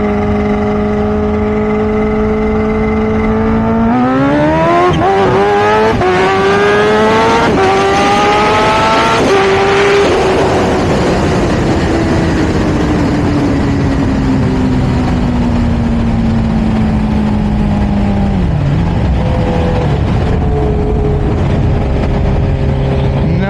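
Chris Moore's H2 street race car roaring up through the gears from a roll, a loud close engine climbing in pitch with a shift, then easing off and winding down, with a faint tire squeal.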